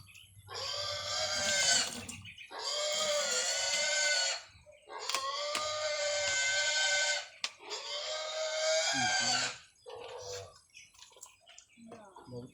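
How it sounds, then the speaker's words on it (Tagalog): A pig at a backyard pen making long, loud, nasal squealing calls in four or five drawn-out bursts with short pauses, close to the recorder. "May baboy po dito sa amin."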